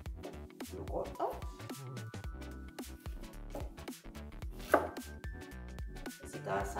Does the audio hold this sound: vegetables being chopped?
yes